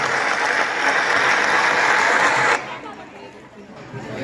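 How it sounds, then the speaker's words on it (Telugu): Audience applause and crowd chatter welcoming a performer dressed as Mother Teresa at a school-style stage event, loud and steady before dropping off sharply partway through, with murmuring voices beneath. "ఈ చప్పట్లలో మదర్ తెరీసా వెల్కమ్ చేయాలి."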